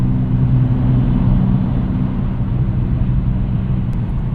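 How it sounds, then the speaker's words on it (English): Ford Escape with a loud, failing muffler passing alongside on a highway, a steady low droning rumble heard from inside a moving 2025 Nissan Versa, with no talk. "I hear this Escape coming up on the side of me though."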